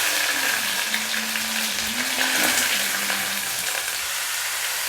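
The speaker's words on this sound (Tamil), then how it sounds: "இந்த வெங்காயம் கொஞ்சம் ப்ரௌன் கலராக வர்றதுக்கு வரைக்கும் நம்ம வதக்குறோம்" Onions sautéing in a pan with curry leaves and popped mustard seeds for Tamil prawn thokku, giving a steady, close sizzle that runs continuously with a faint low hum beneath it.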